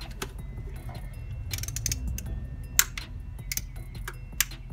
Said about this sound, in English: And then you get your socket driver in.